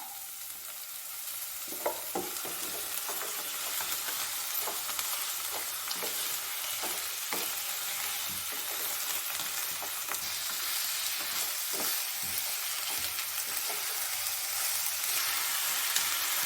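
Chicken keema with ginger and chili sizzles steadily in a pan, a continuous close frying hiss with occasional crackles and faint stirring scrapes throughout.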